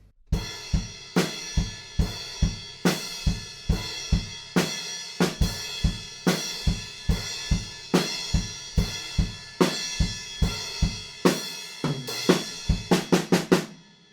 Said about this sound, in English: we move up onto the crash cymbal and we're filling in pretty much every eighth note with the kick drums